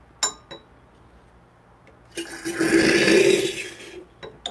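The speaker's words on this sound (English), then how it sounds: "I'm just gonna flush out the water." Rancilio Silvia espresso maker flushing water from its group head, a loud steady hiss and rush of water lasting about two seconds, preceded and followed by a few small clicks and taps.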